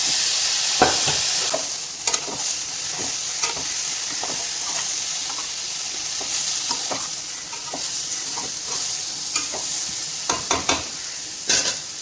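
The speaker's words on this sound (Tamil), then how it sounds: "இந்த பாயில் பண்ணி வச்ச முருங்கைக்காயை சேர்த்துக்கலாம்" Boiled drumsticks stirred into a lightly sautéed masala in a pan, an even close sizzle with repeated sharp clacks and scrapes of the ladle against the pan, in irregular bursts throughout.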